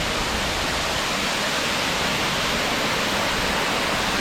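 Large waterfall at Anakulam, a steady broadband rushing roar of falling water, loud and unbroken throughout with no other sounds standing out.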